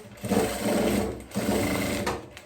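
A sewing machine stitches a seam on a small toiletry bag, whirring close and loud in two steady runs separated by a brief pause, with no talking.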